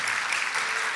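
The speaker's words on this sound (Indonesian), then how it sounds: "Boleh tepuk tangan dulu dong" Audience applause at an Indonesian health and fitness talk: dense, steady clapping from a crowd that fills the whole second at an even, moderately loud level, with no voices over it.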